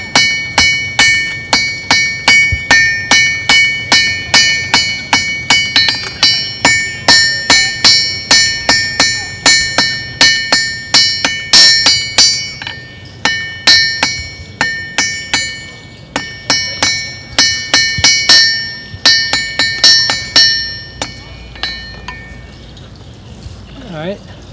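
A blacksmith hammers hot metal on an anvil, drawing it out to a point at a living history day. Steady, bright ringing strikes repeat quickly and closely, with short pauses as the piece is turned.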